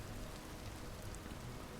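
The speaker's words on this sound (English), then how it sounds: "it's another beautiful rainy day here in the jungle" Steady rain falls in a jungle in the Vintage Story video game, a soft, even hiss of drops with no thunder or voices.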